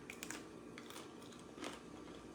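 Close, crisp bites into a crunchy garlic and rosemary protein cracker dipped in a Greek yogurt veggie dip, a few sharp crunches over a brief chewing texture, with no talk.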